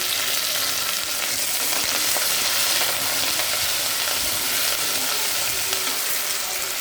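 Curry leaves fry with mustard seeds and cumin in hot oil for a rasam tempering, giving a loud, steady, close sizzle with light crackles and stirring scrapes.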